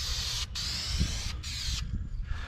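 An aerosol can sprays paint behind the bumper of a cabover truck in steady hissing bursts with brief pauses, close and loud over low background rumble.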